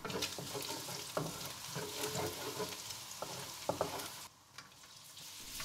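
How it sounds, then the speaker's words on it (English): Garlic sizzles and crackles steadily in oil in a pan, with occasional clinks and stirring scrapes, close by and fairly quiet, no voices. "start frying our garlic until it is fragrant"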